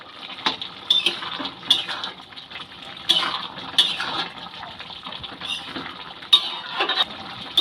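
A metal spoon scrapes and clinks against a pan while chopped coriander leaves are mixed into a cauliflower and green pea curry, with irregular close knocks and a soft scraping bed between them.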